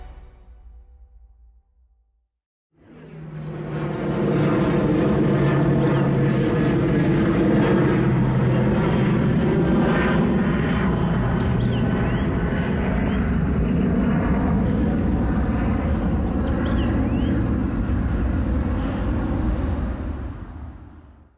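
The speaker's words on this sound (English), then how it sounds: "we're taking another plane flight" A propeller airplane passes overhead, rising from silence to a loud steady drone that holds for many seconds before easing slightly, heard alone without talk.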